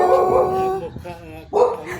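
A small dog barks and howls in two bursts, a drawn-out whining yowl and then a sharper yip, close by in an outdoor spot where people are also speaking.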